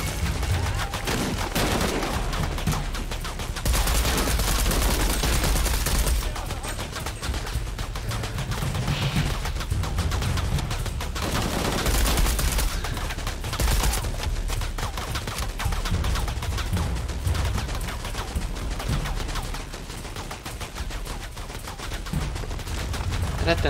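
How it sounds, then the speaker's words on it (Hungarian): Heavy, continuous gunfire and bursts of automatic weapons fill a firefight in the video game Shadow of the Tomb Raider, dense and loud throughout with explosions mixed in. "Rettentő sokat lőnek ebbe a játékba."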